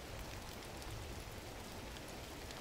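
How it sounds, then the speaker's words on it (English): Steady, soft rain patters evenly across a surface in the game Gris, a continuous hiss of drops with no voices. "Raining, the colors changed"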